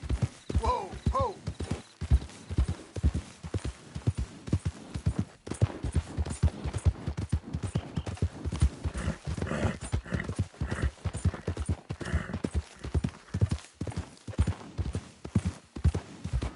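Horse hooves clip-clop in a steady, close, rhythmic pattern in a video game, with a short whinny near the start and the hoofbeats carrying on alone.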